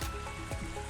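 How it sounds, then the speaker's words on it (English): Small waterfall spilling a long way down a rocky slope on a narrow, winding section of the Bruce Trail in the Blue Mountains, heard as a steady close trickling and gurgling wash with no voices. "This one is tiny waterfall flowing down quite a ways."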